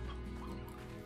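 Chickens in the video game Slime Rancher cluck briefly over a dense, continuous game soundtrack.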